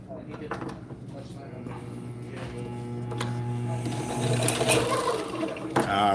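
A fishing reel being loaded with 100-pound hollow-core braided line gives a steady mechanical whir with a humming tone that grows louder toward the end, with a voice partly over it.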